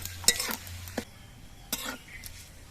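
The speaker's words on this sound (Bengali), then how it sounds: "পাঁচ ফোড়নটা ভেজে নিতে হবে" Five-spice seeds (panch phoron) crackle and pop in hot oil, a few sharp spattering bursts standing out over a quiet, low sizzle.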